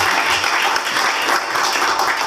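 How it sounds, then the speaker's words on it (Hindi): Sustained crowd applause from an audience at a live ghazal concert, steady and dense for the whole stretch with no pauses. "अगर तालियां बजा करके माहौल दीजिएगा"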